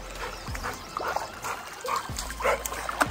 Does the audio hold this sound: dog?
yes